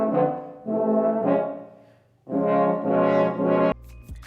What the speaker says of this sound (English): What is a trombone sound like?